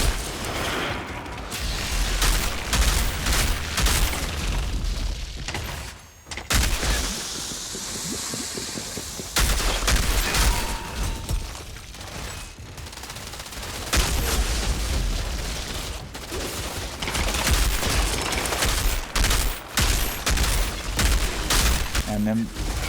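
Bursts of rapid gunfire and booming blasts from a Technomancer fight against snipers in the game Outriders, loud and almost constant across the scene with brief lulls and a voice talking underneath.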